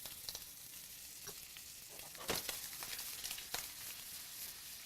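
Pesto and shrimp sizzle in a hot pan over lowered heat, a steady crackling fry with occasional louder spits and stirring pops, close and without speech.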